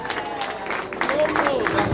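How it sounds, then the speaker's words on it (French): An audience at a ceremony with a minister present applauds loudly, dense clapping building and swelling over two seconds, with voices mixed in. "nous applaudissons très très fort"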